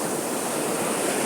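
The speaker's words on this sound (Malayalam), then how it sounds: "എന്താ തെര." Sea waves roll and break on the shore as a continuous broad wash of surf, steady and fairly close, with some wind noise and no voices.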